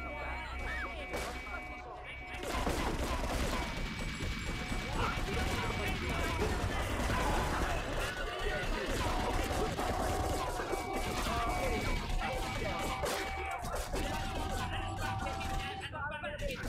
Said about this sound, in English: Italian mafia and Chinese are shooting each other.